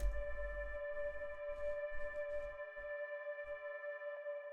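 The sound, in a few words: droning synth pad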